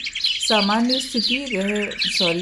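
Sparrows chirp in a quick run of bright, rising calls with short gaps between them, fairly close and lively, with no voices underneath.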